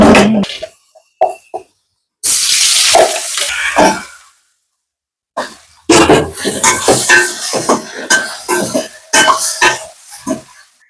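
Curry plates being washed at a kitchen sink: bursts of clattering dishes and rushing tap water, separated by quiet gaps, close and fairly loud.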